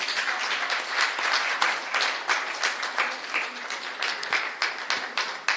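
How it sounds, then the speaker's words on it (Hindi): A seminar audience claps loudly for a welcome at a Vedic gathering marking a swami's birthday, with dense, uneven clapping throughout and no voices. "जोरदार तालियां।"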